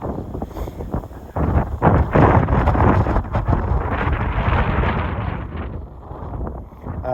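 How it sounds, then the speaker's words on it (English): Wind buffets an iPhone 15 Pro Max microphone outdoors, making a loud, rough low-pitched rumble that swells and gusts for several seconds. "Oh, here's the wind again."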